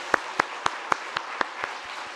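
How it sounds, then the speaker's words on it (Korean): Church congregation at a Sunday worship service applauding; about eight sharp, evenly spaced claps ring out, loud and close, fading slightly toward the end with no talking. "한번 다시 한번 박수합시다."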